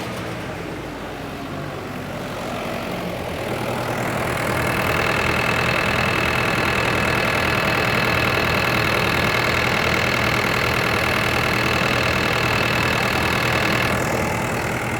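Turbocharged diesel engine of a New Holland TL-90 tractor running steadily on a dyno, a loud, even rumble that builds over the first few seconds and then holds with a faint high whine, with no talk.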